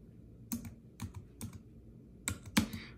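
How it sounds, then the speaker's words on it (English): Several bursts of keystrokes on a computer keyboard, tapped in short uneven clusters with pauses between them, fairly close and clear with no talking. "let me just type it in."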